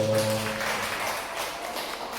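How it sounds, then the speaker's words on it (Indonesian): Applause in a meeting room during a positive-culture dissemination session, a soft, steady patter of clapping that gradually fades. "Tepuk tangan dong."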